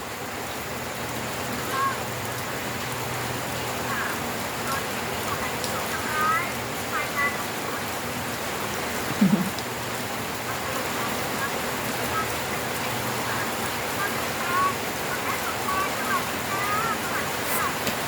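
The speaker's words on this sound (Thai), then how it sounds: "ฝนตกแล้วนะคะ" Steady rain pours down in a continuous broadband hiss, with faint scattered sounds and muffled voices now and then in the background.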